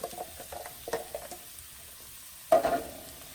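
Zucchini noodles go into a hot pan with tahini and soy sauce: soft intermittent sizzles and stirring scrapes, then a sudden louder burst of sizzling as the noodles land, close and without talking.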